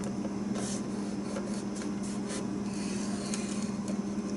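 A scoring tool is drawn along paper to crease a Valentine treat box, making faint, brief scratchy strokes over a steady low hum, with no talking.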